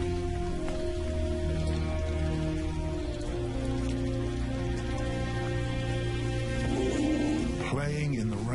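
Rain falls steadily on a pride of lions in Botswana, a constant patter under a low sustained hum, with a vocal sound breaking in near the end.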